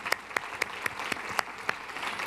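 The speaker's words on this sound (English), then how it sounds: "Let's have a round of applause for them." Business event audience applauds sponsor partners with a brief round of clapping, a steady patter of many hands with a few louder nearby claps at a regular beat.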